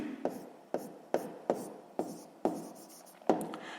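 A pen writes out a sixth-grade maths solution in regular bursts, seven or eight crisp scratchy strokes evenly spaced, close and clear, with no voices.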